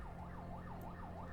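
An ambulance arriving in an accident investigation video game wails with a faint, distant siren, its pitch sweeping up and down in a steady repeating cycle over a low engine-like hum.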